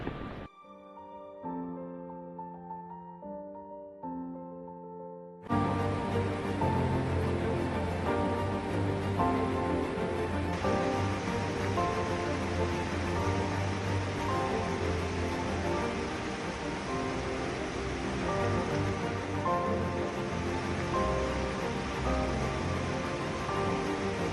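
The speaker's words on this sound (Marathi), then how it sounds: "तो वज्राई धबधबा" A loud, steady roar of rushing water fills the scene after a few seconds of quiet music-like tones, continuous and broadband like the nearby Vajrai waterfall in rainy-season flow.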